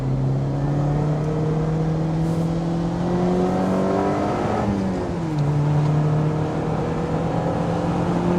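A Lotus Elise 240 Final Edition is driven on a wet test track. The engine holds a steady, loud drone that climbs in pitch, dips sharply around the middle as it shifts or lifts off, then builds again. No voices are heard.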